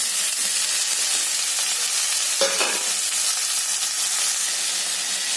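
Raw plantain pieces and shallots frying in a pan, a dense, steady sizzle filling the whole stretch, with a brief stir or clink of a spatula midway, close and fairly loud with no talking.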